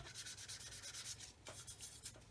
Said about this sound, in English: I'm just going to very lightly sand that area